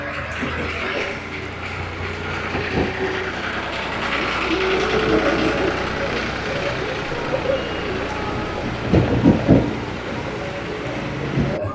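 Vehicles pass through a village street in Nepal, their engines and rattling mechanisms forming a continuous rumble with clanking bursts near the end, set against general street noise and some talk.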